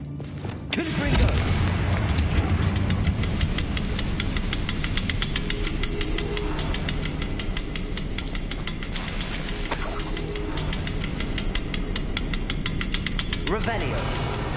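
Confringo blasting spell in Hogwarts Legacy on PS5, a continuous booming, rattling barrage of fiery impacts that stays loud and dense throughout with a sharper burst near the end.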